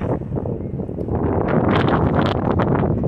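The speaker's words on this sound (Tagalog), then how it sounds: "Ang lamig, lakas ang hangin." Strong wind buffets the microphone in a continuous loud, rumbling roar, gusting a little stronger toward the end; no voices.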